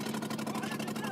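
Poorly running motor of an old, overcrowded wooden refugee boat on the sea, a continuous throbbing hum with a steady rapid beat, heard up close.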